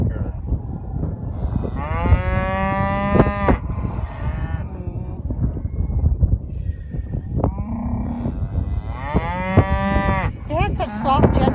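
Several cows on a farm with home-raised livestock moo loudly and close by, long drawn-out calls in two main bursts with a few shorter lows between, over steady background noise.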